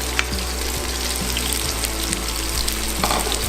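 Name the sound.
onions frying in oil in a pan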